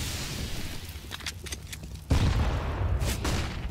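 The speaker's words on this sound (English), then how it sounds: "Good timing on the nade, dealing a ton of damage on Snatchy" A grenade blast in competitive CS:GO on the Mirage map, a sudden loud boom about two seconds in that sits over a steady bed of crowd and gameplay noise, preceded by lighter scattered clatter.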